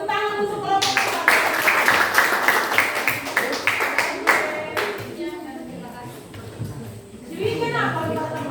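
A classroom of students applauds a group presentation with a loud, dense burst of clapping that lasts about four seconds and then dies away, followed by people talking nearby.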